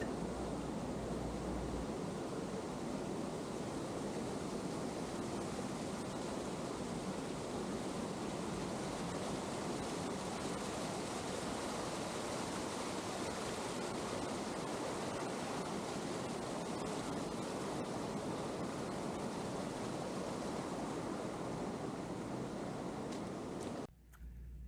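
Waterfall at Havasupai pouring into a pool, a steady broad roar of splashing water that holds constant and close throughout, with no voices.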